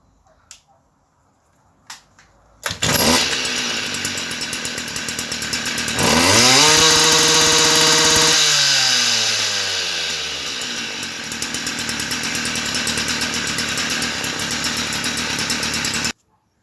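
A Stihl FS38 weed eater with a freshly adjusted carburetor starts with a couple of pulls, then its two-stroke engine runs loud and buzzy, revving up and settling back to a steady rattling idle until cut off.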